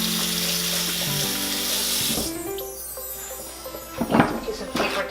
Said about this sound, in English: I'm going to wash my lemon, or my lemons.